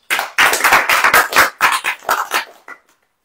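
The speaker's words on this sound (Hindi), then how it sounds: "अब ताली बजाओ।" A church congregation clapping in bursts, rapid loud hand claps in several rhythmic runs separated by short pauses, fading with a few last claps.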